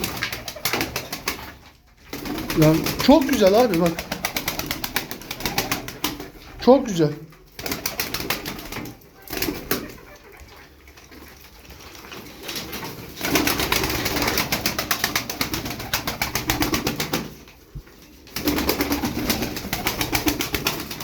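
Pigeons coo softly in the background while someone talks over them, with short bursts of rustling and wing flutter between his words.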